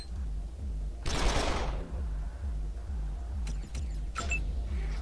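Gunfire in the game Wasteland 2, one loud burst of shots early on, followed by a few quieter sharp cracks later, over a steady low hum with no talk.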